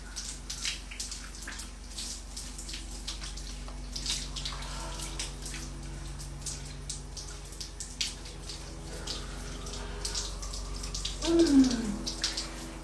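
Running water from a faucet pours steadily over fingers in a sink as a rinse, a soft continuous trickle and splash close by, with a brief louder gush near the end.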